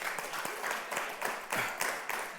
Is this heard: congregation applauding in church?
yes